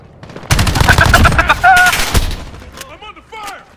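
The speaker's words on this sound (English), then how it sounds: "I'm under fire!" Loud automatic gunfire in the video game Call of Duty: Modern Warfare, a sustained close burst of rapid shots lasting about two seconds, then tapering off as voices and game chatter come in.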